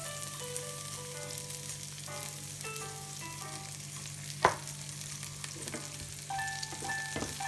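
Chorizo and shrimp frying in oil in a pan give a steady close sizzle, with a sharp clink of a utensil midway and the crackle rising again near the end.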